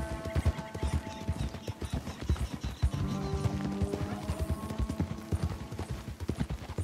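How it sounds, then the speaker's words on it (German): Horse hooves clip-clop steadily in Red Dead Redemption 2, a small horse trotting over sandy ground, with occasional whinnies and game sounds layered in a continuous rhythmic stream. "Das ist so ein Mini-Pferd, was der Lenny da hat im Verhältnis"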